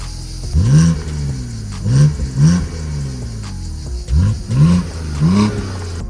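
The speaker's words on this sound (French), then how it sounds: "on va voir comment fonctionne un peu le 6 cylindres sur la route" A BMW Z4 30i (E89) six-cylinder engine, roof down, revs up repeatedly on the road, each burst rising sharply in pitch then falling away, loud and close, about six pulls in quick succession.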